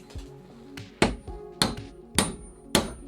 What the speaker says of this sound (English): Let's find out what a hammer can do.